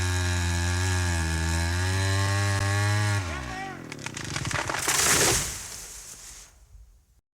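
A chainsaw cuts down trees, its engine holding a steady, loud drone before the pitch drops as the blade bites into wood, then a rougher crackling stretch that fades away.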